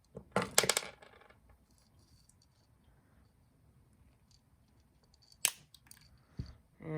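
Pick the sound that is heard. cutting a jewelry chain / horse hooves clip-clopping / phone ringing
cutting a jewelry chain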